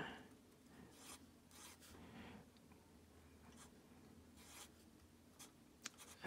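A chemical backbone structure drawn by hand with a pen, heard as faint close scratching strokes in short bursts separated by pauses, quiet and with no voices.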